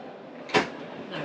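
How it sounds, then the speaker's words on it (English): Inside a Swift 694 caravan at a motorhome show, a cupboard door with push-button catches clicks open in a single short, sharp knock, faint and close, with quiet room noise around it. "you have to hold those down to actually open the doors."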